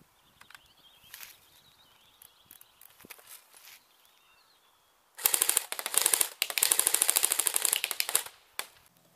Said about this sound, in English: now what I'm going to do is do a 3-second burst down at the target at 75 feet